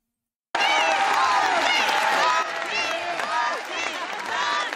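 Applause and crowd noise fill the House chamber, a dense wash of clapping and murmuring voices that starts abruptly and carries on steadily, with chatter mixed through it.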